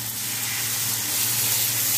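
Spice masala hits a hot pan while chilli paneer is being cooked, giving a steady, loud, hissing sizzle throughout with a faint low hum beneath and no talking.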